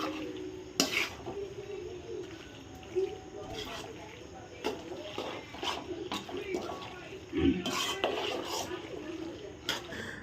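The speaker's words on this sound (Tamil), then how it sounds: "நம்ம தட்டி வச்சுருக்க பாஸ்தா அந்த பால் கூட நல்லா மிக்ஸ் ஆகிற மாதிரி நம்ம கரண்டியை வச்சு நல்லா கிண்டணும்" A spoon stirring pasta in milk in a pan gives intermittent scraping and metallic clinks against the pot, close and moderately quiet, with a person talking over it.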